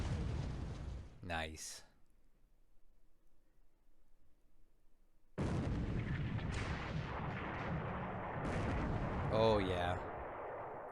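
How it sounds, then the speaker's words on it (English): In a War in the Pacific naval wargame, the heavy cruiser USS Houston's 8-inch guns and anti-aircraft fire rumble as dense, sustained booms and bursts against Japanese transports. A quiet gap falls between the volleys, and a man briefly reacts over them. "Houston's laying in some 8-inch gunfire now."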